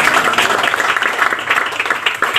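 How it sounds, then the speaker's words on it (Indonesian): Church audience clapping for the glory of God, a close, loud and continuous burst of applause with a dense, lively texture across the whole short stretch. "Beri tepuk tangan bagi kemuliaan Tuhan."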